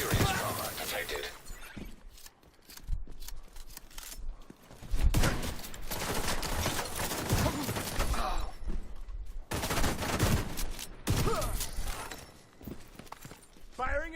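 Gunfire in the shooter game The Division 2, with repeated bursts of automatic fire and sharp single shots in an irregular rhythm, loud and close, mixed with someone shouting over the action.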